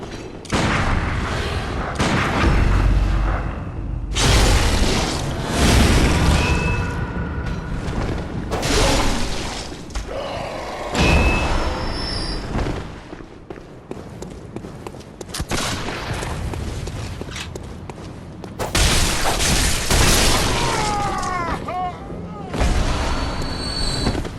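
Gunfire and heavy impacts in the video game Bloodborne, a dense barrage of loud shots, booms and crashes that continues almost without pause, with brief dips in the middle.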